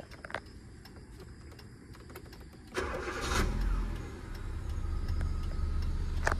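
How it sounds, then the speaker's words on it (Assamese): A few faint clicks, then a Hyundai i20 car engine cranks and catches, settling into a low, steady idle. "ইঞ্জিনটো ষ্টাৰ্ট কৰি শুনাম বাৰু"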